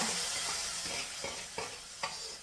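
Mustard seeds sizzle and fry in a pan of hot oil for a Kerala-style dish, giving a steady close crackle. A few sharp scrapes of stirring break through it.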